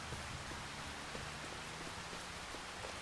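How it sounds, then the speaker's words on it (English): Rain falling in a video game makes a soft, even hiss of drops that stays faint and unbroken throughout, with no voices. "Okay, I don't know why I'm walking in the rain."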